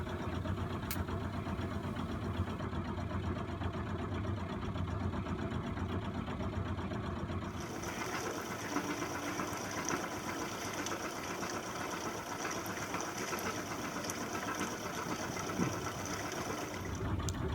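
A sailboat's inboard engine idles and shifts from a fast idle down to a slow idle. It gives a continuous, quiet, even chugging whose tone changes partway through.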